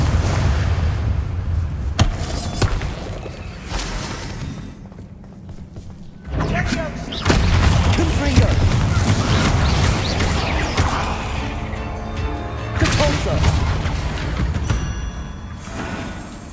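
Confringo blasting curse explosions in the wizarding game Hogwarts Legacy burst out as heavy booming thuds and crackling blasts, loud and dense across the stretch, mixed with a voice speaking.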